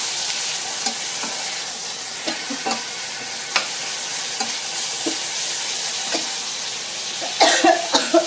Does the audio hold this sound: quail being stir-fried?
yes